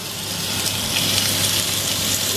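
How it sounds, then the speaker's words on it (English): A steady, loud hiss of frying fills the whole stretch, the dense crackle of steak sizzling in a hot pan up close. "Lovely sound of sizzling."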